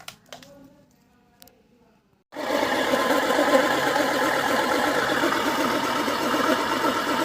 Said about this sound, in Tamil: இப்போ பவர் சப்ளை கொடுத்துட்டோம். லைட்டாக சவுண்டு வரும். அந்த சவுண்டு எதுனாலும் ஒரு பேரிங் போயிடுச்சு, அதனால தான் அந்த சவுண்டு வரும்.